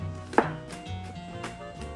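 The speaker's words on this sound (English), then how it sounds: "You're gonna chop the garlic very finely." A knife chops garlic finely on a cutting board, one sharp close knock followed by softer rocking taps at an irregular pace over low kitchen background; no voice.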